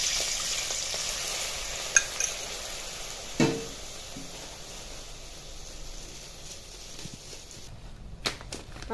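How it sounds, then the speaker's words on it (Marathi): Milk poured into half a spoon of hot ghee in a pan for quick homemade khoa, giving a steady close sizzle and hiss with a few sharp clicks and stirring scrapes, no voices. "त्यासाठी नॉर्मल तूप घालून घ्यायचं एक अर्धा चमचा आणि त्याच्यामध्ये थोडंसं दूध घालायचं"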